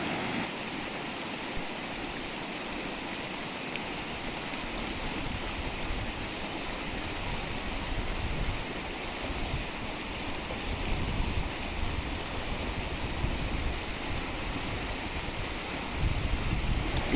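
Mountain river flowing through the Lahaul landscape: a constant loud rush of turbulent water, steady and close throughout, with no talking.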